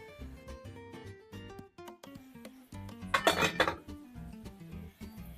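Metal cookware clinks and clatters quietly as a lid goes onto a pan of frying onions for cheese and onion gözleme, with scattered taps and a brief busier burst of noise midway.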